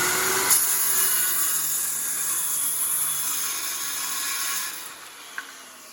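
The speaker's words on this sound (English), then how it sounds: "So I'm going to use this as a straight edge when I'm running my circular saw down through there." A 15 amp circular saw rips along a 2x12 board, giving a steady, loud whine that runs for several seconds and then cuts off sharply, followed by a brief click.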